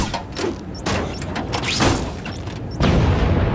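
Neighborhood fireworks bursting in a series of sharp booms and crackles, several loud explosions spaced through a few seconds, with no talk.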